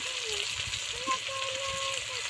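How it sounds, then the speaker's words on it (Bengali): Chopped tomato fries in a pan for a Bengali fish curry and is stirred, giving a continuous soft sizzle with faint scraping under a quiet background. "টমেটো কুচি দিয়ে দিলাম। একটু নাড়াচাড়া করছি যাতে টমেটো একটু ভালো করে ভাজা হয়ে গেলে"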